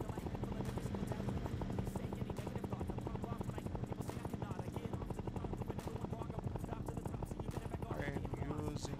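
Steady helicopter rotor thrum with a buzzing engine drone in a hyper-casual shape-shifting race game, continuous and even throughout, like game sound effects.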